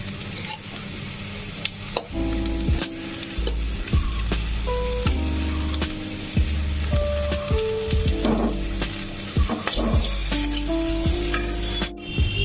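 Onion, garlic and green chili fry in a pan with a constant crackling sizzle, broken by repeated stirring scrapes and light utensil clinks, with no talking.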